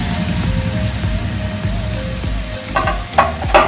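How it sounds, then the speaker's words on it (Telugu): Grated raw mango frying in hot oil, a loud, steady crackling sizzle throughout, with a few sharp spatula scrapes and knocks toward the end. "ఇలా ఆయిల్లో 1 నిమిషం పాటు వేయించుకొని ఇదంతా కూడా అన్నంలో కలిపేసుకోవాలి."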